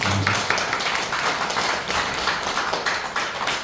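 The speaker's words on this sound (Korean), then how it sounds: "박수를 한번 쳐주시죠." An audience at a business presentation breaks into applause, a dense patter of many clapping hands that holds steady for a few seconds.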